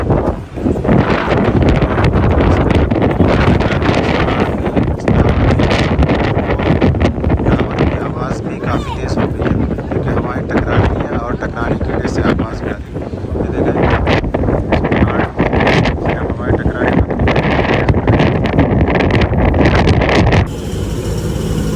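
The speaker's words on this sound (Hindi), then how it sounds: "हवा बहुत तेज़ है" Strong wind buffeting the microphone on a mountain near Taif, Saudi Arabia, loud continuous roaring gusts that hardly let up, while someone talks under the noise.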